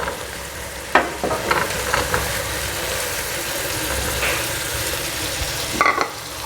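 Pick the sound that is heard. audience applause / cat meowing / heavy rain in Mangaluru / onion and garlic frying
onion and garlic frying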